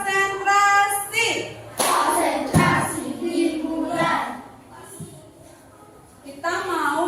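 Children in a classroom clap a rhythmic concentration clap pattern, with sharp, close bursts of clapping that are mixed with speech and children's voices.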